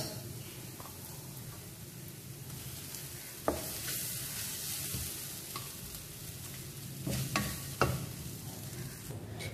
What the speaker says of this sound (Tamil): இந்த பேஸ்ட்டையும் நம்ம நல்லா வதக்கிக்கலாம்.